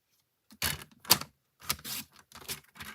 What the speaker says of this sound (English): So I'm going to cut this